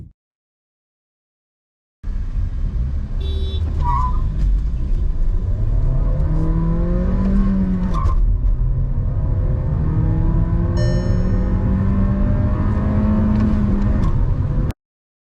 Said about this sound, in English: We'll take this car for a drive now